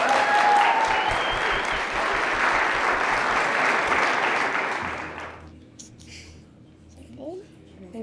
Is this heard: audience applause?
yes